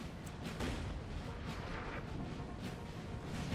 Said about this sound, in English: Being ordered to go across an entire field where artillery is just hitting you